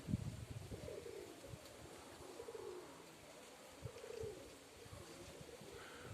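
Soft, low cooing of Kursk breed pigeons repeats in a few rolling phrases, faint and close, against a quiet breezy background.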